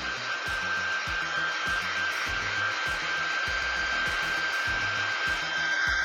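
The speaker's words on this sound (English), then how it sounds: "having an old hairdryer around is a really good idea" An old hair dryer in an art studio blows steadily with a whooshing airflow and a high motor whine, alongside intermittent rhythmic rubbing or scraping thumps, close and continuous.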